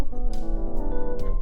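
Electric piano software instrument in Logic, sustaining a soft chord briefly with a few gentle note attacks, moderately quiet and alone.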